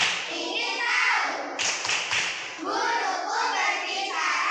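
Children in a classroom perform the 'tepuk konsentrasi' clap chant, a few sharp hand claps landing between voices chanting together, close and lively.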